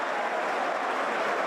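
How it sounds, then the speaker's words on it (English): Football crowd at Blackburn Rovers v Birmingham City applauding a departing player, a broad, even roar of distant stadium clapping that holds steady throughout. "a handsome round of applause as he departs."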